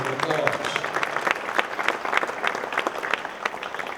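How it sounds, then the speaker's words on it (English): A theater audience at Shea's in upstate New York breaks into a sustained round of applause, dense and lively with crisp individual claps, starting just after a speaking voice and continuing strongly throughout. "Let's give them another great big round of applause."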